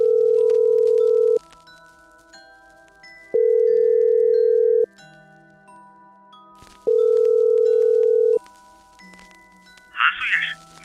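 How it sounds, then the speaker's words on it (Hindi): An unanswered phone call rings back in long, steady tones separated by silent gaps, three clear rings, followed by a brief burst of higher noise at the end. "नहीं यार, वो फोन नहीं उठा रहा। मैंने 8-10 कॉल कर लिए"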